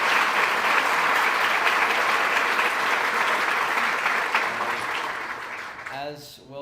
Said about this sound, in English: can you guys give a round of applause for them as well?